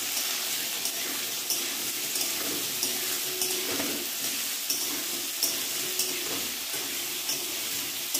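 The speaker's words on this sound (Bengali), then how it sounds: "আলুটা একটু ভাজা হোক, আমি ঢাকা দেব।" Potato pieces frying in oil in a covered pan for a Bengali pumpkin and potato curry, giving a steady soft sizzle with faint clicks throughout, close and alone with no talk.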